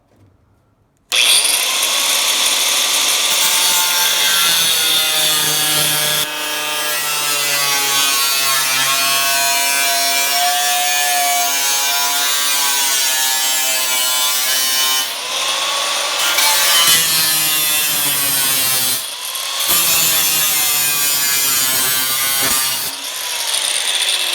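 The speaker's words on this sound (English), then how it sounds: "die grinder with a cutoff wheel" A die grinder with a cutoff wheel cuts into a rusty car firewall, giving a loud, steady, high-pitched whine that wavers as it bites into the metal, with a few short pauses between cuts.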